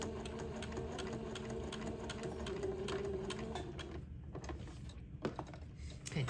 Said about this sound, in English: Drop my needle to make sure I'm going right in on that end line, and then sew a 1/8 inch seam.